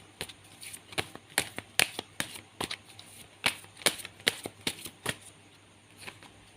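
Tarot cards are shuffled close by in a quiet room, making a run of sharp, snapping riffles and flicks in irregular bursts with brief pauses between them.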